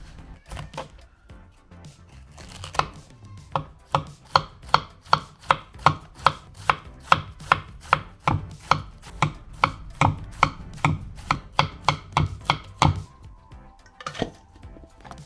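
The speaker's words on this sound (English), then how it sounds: "Just got some cabbage here. I'll shave it." A knife shaves cabbage rapidly and rhythmically against a cutting board, dozens of crisp even strokes, close and loud, slowing and stopping near the end.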